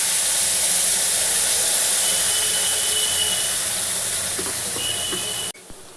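A spice paste is poured into hot oil tempered with nigella seeds for a Bengali potol curry, giving a loud, continuous hiss and sizzle that cuts off abruptly near the end, with no voices.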